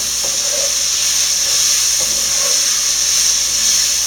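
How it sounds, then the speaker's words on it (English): Steady sizzling and hissing of lentil stew frying in a pan, loud and close, with faint stirring clicks underneath. "it is definitely frying up real nice"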